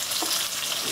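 Spices, curry leaves, green chillies and chopped onions frying and being stirred in a pan: a continuous soft sizzle with faint scraping, close and steady throughout the brief moment.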